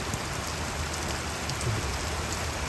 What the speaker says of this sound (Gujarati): એવો વરસાદ છે જુઓ